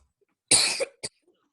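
A single sharp cough close to the microphone, followed by a brief second hack, in an otherwise quiet room.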